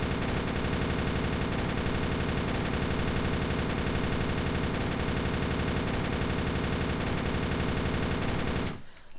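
An MG240 machine gun fires nonstop in the video game Darkest Days. A loud, dense, rapid stream of shots runs for about nine seconds, then cuts off abruptly, with no talking.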